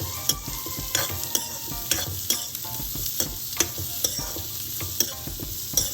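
Elephant foot yam is stir-fried in a pan over a constant sizzle, with a spatula scraping in quick, regular strokes about twice a second.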